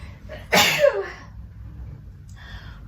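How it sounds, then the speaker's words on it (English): A single loud, close sneeze bursts out, followed by quiet breathing and a faint exhale. "Excuse me, I had to sneeze."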